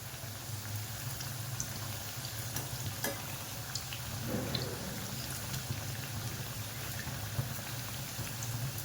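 Cheese-stuffed coriander vadi fries in hot oil, giving a steady, dense sizzle and bubbling that runs unbroken throughout, with no voices.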